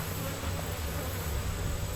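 Honey bees hum in a dense, steady drone from an opened hive, faint but continuous and close, with no voices over it.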